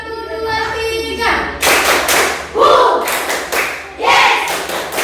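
A classroom group, likely children, claps in rhythm on cue in bursts of several sharp claps, with voices chanting and talking between the bursts.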